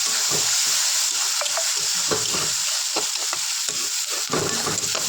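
Spice paste for chicken kosha sizzles and fries in a pan after a splash of water, a constant hissing bed broken by the scrape and clatter of a stirring spoon, close and with no talk.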